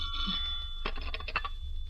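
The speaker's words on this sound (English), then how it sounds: "Nicky, phone." A telephone bell rings in a 1947 radio drama, a bright trilling burst near the middle over a steady hum, with no talk during the ring.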